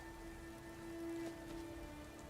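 Steady rain falls in the video game Skyrim as a faint, even hiss, with a soft held musical tone running beneath it.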